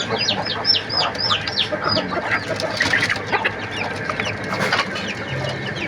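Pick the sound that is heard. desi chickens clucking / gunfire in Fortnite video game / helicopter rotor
desi chickens clucking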